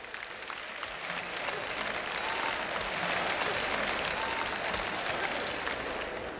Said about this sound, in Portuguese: Dê uma salva de palmas ao Senhor.